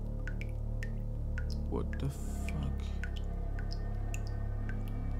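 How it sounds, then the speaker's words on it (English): Blood dripping in the horror game Paranormal Entities: regular, faint, close drips ticking over a steady low hum, while a man exclaims in the middle. "We got blood dripping."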